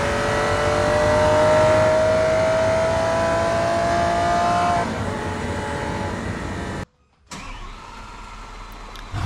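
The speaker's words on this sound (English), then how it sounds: "As the V12 fires up for a drive" A V12 supercar engine starts up loudly nearby, then revs and settles into a rumbling idle, with a brief cut of silence before it continues.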